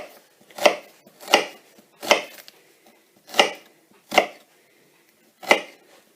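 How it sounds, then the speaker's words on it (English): A knife chops through an onion on a board in a home kitchen, six sharp separate cuts at an uneven, unhurried pace, close and clear with no talking. "So that's my onion cut up."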